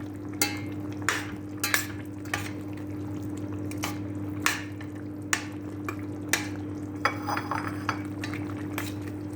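Bean stew with dried parsley being stirred in a pot on the stove: regular clinks of a spoon against the pot, roughly one every half second to second, over a steady low hum.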